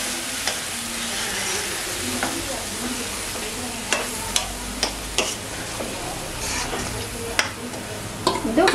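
Ground masala of coconut, green chilli, coriander leaves, cinnamon, clove and tomato fries over a low flame for a Marathi-style kaima amti. A close, constant sizzle is broken by repeated ticking spoon scrapes against the pan.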